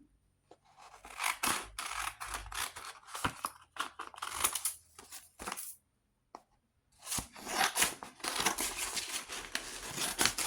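Scissors cut through a sheet of paper, with crisp snips and crinkling in irregular bursts and brief pauses, close and fairly loud with no talk.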